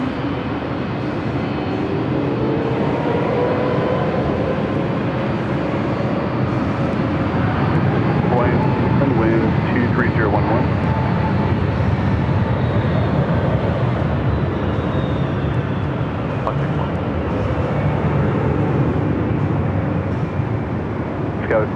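An Airbus A321neo roars on takeoff from runway 24 left at LAX, a broad, sustained jet rumble heard from a distance, rising and slowly shifting in pitch, with voices talking over it.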